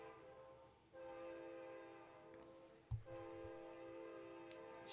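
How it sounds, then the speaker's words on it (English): Passing train with a sustained horn blast, a steady harmonic drone holding for several seconds with a brief dip and thump midway, somewhat distant and fairly faint, without talk. "Sorry, I got a train"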